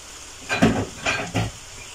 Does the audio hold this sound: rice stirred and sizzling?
yes